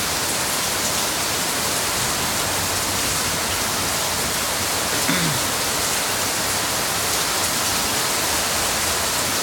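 Heavy rain pours steadily during a strong thunderstorm in central Oklahoma, a dense, unbroken roar of water lasting throughout with no voices.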